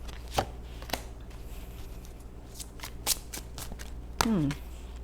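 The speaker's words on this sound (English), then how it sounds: "I'm just going to pull all the cards and then I'll start interpreting" Oracle cards are shuffled and pulled by hand, giving sharp irregular slaps and flicks against a low steady hum, close up, with a brief squeaky sound near the end.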